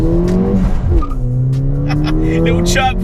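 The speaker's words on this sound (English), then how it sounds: "Little chirp from second gear there" A 2017 Ford Fiesta ST200 hot hatch accelerates hard, its loud engine note climbing through the gears with a brief tyre chirp in second, recorded close while a voice talks over it.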